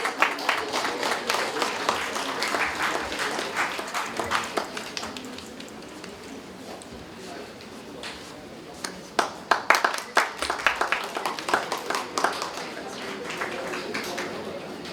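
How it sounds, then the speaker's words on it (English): An audience at a conference claps steadily in dense, overlapping applause for a guest that swells again toward the end, with some voices mixed in. "our guest a heartfelt round of applause, please"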